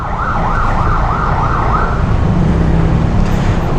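Ambulance siren wailing on a road in Valenzuela, loud and close, its rising and falling tone cycling over steady traffic noise before giving way to a different siren pattern.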